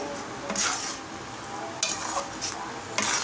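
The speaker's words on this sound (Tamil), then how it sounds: "அதை நல்லா கொதிக்க விடுங்க" A thick tamarind and shallot curry bubbles and sizzles in a pot, with a few bursts of spoon stirring and scraping, close up and without speech.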